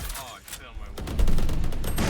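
Gunfire in a Valorant match, rapid rattling shots and a sustained burst of fire close up, with a voice talking over part of it.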